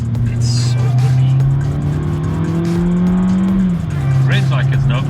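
A Suzuki Swift Sport hot hatch revving hard while driving, its engine note climbing steadily through the gears, loud and close from inside the car, dropping briefly before pulling up again, with a voice talking over it.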